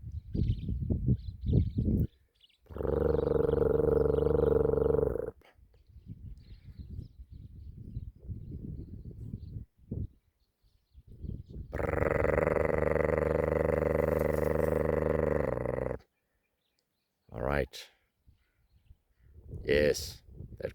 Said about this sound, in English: that crow in the distance, Cape Crow, is definitely making them alert